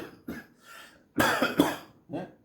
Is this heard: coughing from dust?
yes